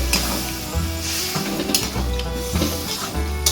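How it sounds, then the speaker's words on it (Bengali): Spiced water stirred into a bhola fish head curry in a pan, sizzling and bubbling with repeated spoon strokes, close and fairly loud, no voices. "এই দেখো মশলা দেওয়া জলটাই দিয়ে দেবো, নাড়িয়ে দিই"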